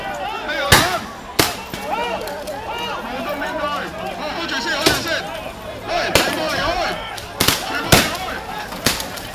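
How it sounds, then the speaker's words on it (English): Sharp gunshots crack out repeatedly at irregular intervals, loud and near, over a continuous background of shouting and crowd voices at a 2019 Hong Kong protest. "The persistent sound of gunshots."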